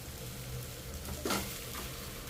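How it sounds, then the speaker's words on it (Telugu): Chicken pieces for an Andhra-style chicken fry drop into a hot pan and sizzle, a brief sharp burst of frying over a steady background crackle, close and moderately loud. "చూడండి, ఇప్పుడు నేను చికెన్ వేస్తున్నాను."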